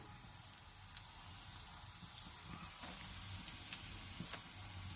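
Jalebi batter fries slowly in oil over a very low flame, a faint, steady, even hiss of gentle sizzling with occasional tiny pops and no talking.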